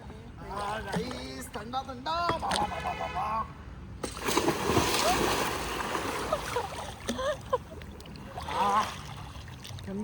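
A broad rush of shower water pours steadily for several seconds, close and loud, with people talking before and over it.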